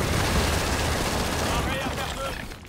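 A turret in Gears of War 4 pours out sustained, loud gunfire, a dense continuous burst that dominates throughout before thinning slightly at the end, with game voices mixed in.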